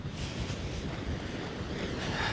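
Ocean waves break at a windy beach near a windsurfing spot in Rhosneigr, a steady broad wash of surf mixed with heavy wind noise on the microphone, with no talk.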